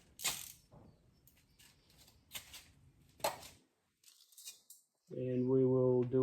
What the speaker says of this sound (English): Let my ratchet go there.